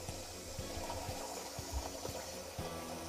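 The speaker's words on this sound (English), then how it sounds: "open the valve until it's fully opened and let it flush the water tank" Water from a water heater tank being flushed out through a hose makes a steady, low rushing gush, with faint thumps now and then.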